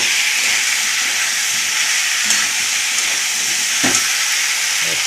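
Ginger hits hot oil in a pan and sizzles loudly with a constant bright hiss, close up, with faint stirring clicks and no voices.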